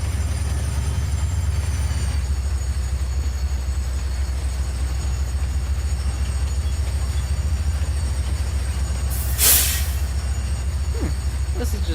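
Train running along a railroad in the Farming Simulator 25 video game, a steady low rumble throughout with a faint high whine and a brief louder hiss or burst near the end.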